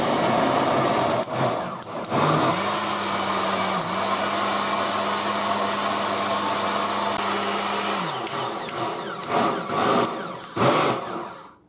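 A blender runs steadily for several seconds as it beats salmorejo, a cold tomato soup, with a whirring motor tone that holds and then winds down, followed by some clatter and handling noise nearby.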